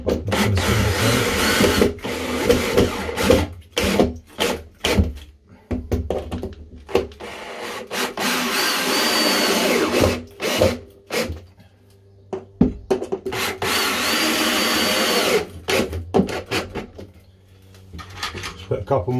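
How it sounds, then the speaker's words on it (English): A power drill drives screws into a timber batten while boxing in pipework overhead, sounding as repeated loud whirring bursts with pauses between them, close by in a small space. "I'm just gonna screw this in."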